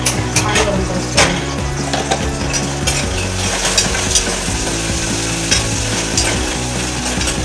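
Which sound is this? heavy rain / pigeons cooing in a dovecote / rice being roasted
rice being roasted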